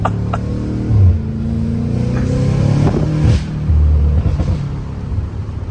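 A five-cylinder car engine rumbles and revs nearby, rising and falling in pitch, with a faint whistling turbo spool building over the low drone.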